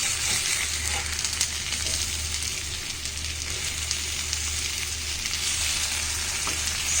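Mutton chops sizzle and fry steadily on a hot tawa, a dense continuous crackle with a low hum beneath, loud and close, with faint scraping as pieces are turned.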